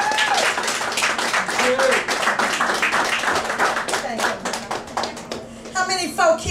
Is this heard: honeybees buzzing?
no